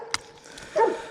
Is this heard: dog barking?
yes